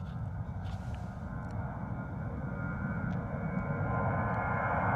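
An EasyJet jet airliner departs Gatwick runway 26 left, its engine roar steady and rising gradually, heard from a distance with faint scattered clicks.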